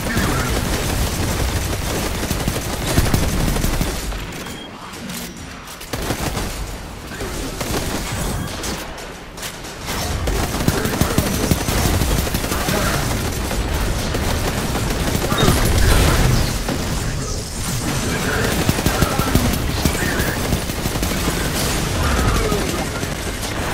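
Sustained gunfire in the Destiny 2 Forsaken Gambit mode, dense fusillades and rapid bursts running almost continuously with brief lulls, loud and close under occasional voices.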